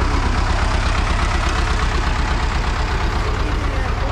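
A small engine runs at a steady idle throughout, a continuous low chugging rumble heard up close with no other sounds over it.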